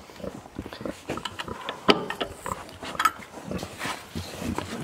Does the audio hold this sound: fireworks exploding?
no